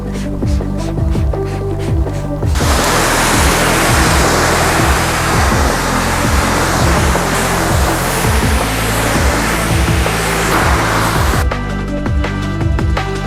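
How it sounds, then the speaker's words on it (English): Water from a hose or pressure washer rinsing rinse aid off a clean wet car panel, a loud continuous hissing spray lasting about nine seconds, with a mechanical hum before and after. "When you rinse it off, watch the water disappear."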